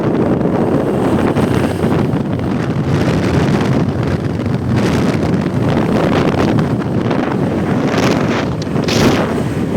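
Heavy wind buffeting the microphone on a motorbike ride toward Borobudur in Indonesia, a loud, constant roaring rush with faint engine hum beneath and no talking.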